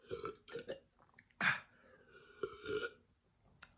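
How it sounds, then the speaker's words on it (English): A loud, deliberate burp erupts mid-clip, followed by another long belch and a short burst at the end, with quieter throaty noises between and no words spoken. "Where's my confirmation burp?"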